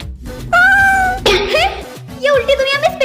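A cat gives several loud, close meows, drawn-out and wavering, with a rougher strained cry in the middle, and a person's voice comes briefly between them.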